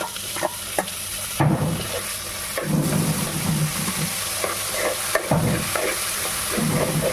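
Onions, potatoes and tomato pieces fry in a pan for upma, a constant close sizzle broken by scraping stirs at irregular intervals, with no talking.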